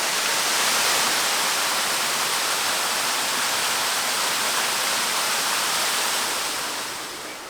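A waterfall roars steadily, a dense broad rush of falling water filling the scene, loud and constant, easing slightly at the very end.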